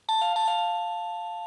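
A SECRUI wireless doorbell plays its default chime, a bright two-note ding that rings out loud and near, then sustains and slowly fades with no one talking.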